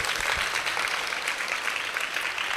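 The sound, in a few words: audience clapping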